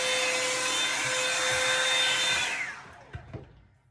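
An all-in-one one-step blow dryer on curly hair gives a loud steady whirring hum with a high whine, then shuts off and spins down after about two and a half seconds, followed by faint handling clicks.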